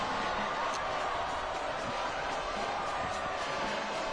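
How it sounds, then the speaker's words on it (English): The Weber crowd roars steadily at a Davis vs. Weber football game on third down, a dense, sustained wall of cheering and noise filling the stadium, with an announcer talking over it. "The Weber crowd turns out the volume."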